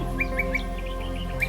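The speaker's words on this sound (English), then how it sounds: "It's also a good place for birds, an oasis in an arid land with plenty of budgerigars, willy wagtails," Wild birds at a desert oasis in the Australian outback, among them budgerigars and willy wagtails, give short repeated chirps at an even pace over a steady low hum, fairly close and clear.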